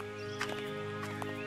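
Donkey hooves clop on a road, a few light, evenly spaced hoof knocks over a soft steady musical background.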